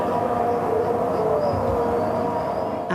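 Air raid sirens sounding in northern Israel during conflict with cross-border attacks, a continuous, loud wailing tone that fills the scene without pause.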